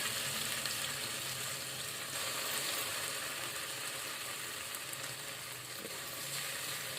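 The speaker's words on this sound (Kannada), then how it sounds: "ಇದಕ್ಕೆ ಇವಾಗ ನಾನು ಎಣ್ಣೆಗೆ ಒಂದು ಸ್ವಲ್ಪ ಬಾಯ್ಲ್ ಮಾಡ್ಕೊತೀನಿ ರೀ." Dried coconut mixture fries in hot oil in a home kitchen during Sankranti cooking, giving a steady, close sizzle and crackle that holds evenly for the whole stretch, with no talking.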